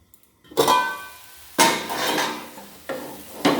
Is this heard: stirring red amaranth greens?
yes